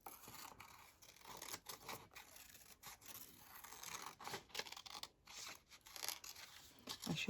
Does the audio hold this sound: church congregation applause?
no